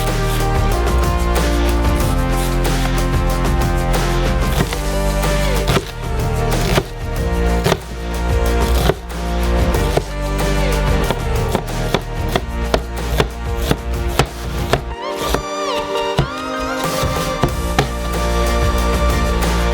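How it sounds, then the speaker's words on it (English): A knife chops an onion on a cutting board in repeated, fairly even strokes, with a short pause partway through and soft music underneath. "Peel a large onion. And cut it into small cubes."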